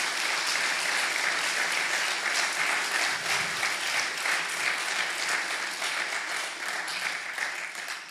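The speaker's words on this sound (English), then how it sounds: "can I just have a round of applause" A sustained round of applause from an audience at an evening celebration, steady dense clapping that holds level and fades slightly near the end.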